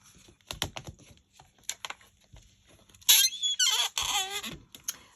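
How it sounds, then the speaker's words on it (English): A Misty stamping tool being used for card stamping, its hinged lid opening and closing with a loud, drawn-out squeak in the middle, after a series of quick tapping and clicking handling noises close by. "It's the squeaky Misty, as you've gathered."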